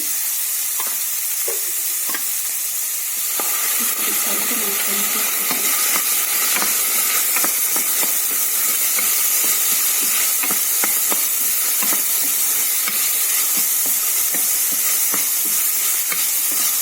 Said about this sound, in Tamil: பீன்ஸ் கொஞ்சம் நல்லா வதங்கிடுச்சு